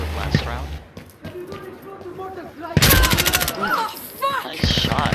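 Automatic gunfire from Insurgency: Sandstorm rattles in bursts, with one loud close rapid burst in the middle, while a player talks excitedly over the shooting.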